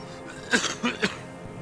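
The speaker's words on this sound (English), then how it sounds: "He looks away to the sea and lets out a cough." A few short, sharp coughs close by from a character in the video game Disco Elysium, with a quiet background around them.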